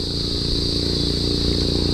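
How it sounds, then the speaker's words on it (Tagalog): A motorcycle on a road, heard as a steady droning engine rumble that stays fairly loud and even throughout a brief moment, with no talk over it. "May motor pa."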